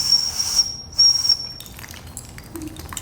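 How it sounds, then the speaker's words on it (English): A small Japanese stone whistle shaped as two fish gives a thin, high steady tone for about a second and a half, briefly interrupted, followed by fainter hiss and light room noise. "Now this one came from Japan. And it's made out of stone. It's called the two-fish whistle."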